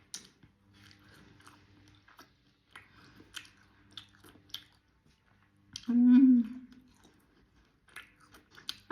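Crunchy bites and chewing on a folded snack of tamarind-style leaf dusted with mixed salt and chili powder, close to the mouth, with soft scattered clicks and one louder, longer chew near the end.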